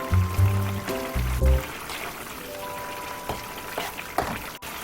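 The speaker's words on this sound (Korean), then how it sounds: "육수를 다 넣으시면 멸치 액젓으로 간을 해주세요." Anchovy fish sauce pours into simmering broth for a braised beef and dried radish greens dish, a short trickle and splash up close amid soft bubbling.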